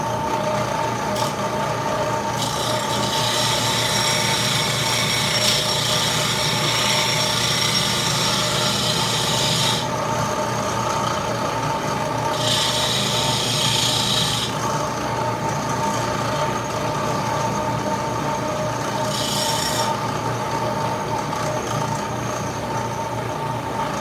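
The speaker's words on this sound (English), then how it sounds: "So I can take this to my sander and just flatten this out right here, flatten out that edge" A sander flattens the edge of a 1/64 scale farm tractor model part, giving a continuous motor whine with several louder grinding bursts as the part is pressed against it, with no talk.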